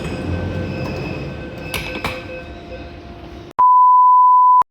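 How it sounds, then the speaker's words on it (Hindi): A Delhi metro train rumbles into the station with a low, steady roar and faint squeals, then a loud continuous electronic beep sounds for about a second near the end. "और मेट्रो आ गई है, अब हम अंदर को और हम जाएंगे।"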